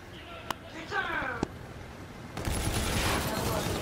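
Gunfire in Call of Duty Infinite Warfare: two sharp single shots, then a dense rattling burst of automatic fire at the end, amid game effects and talking.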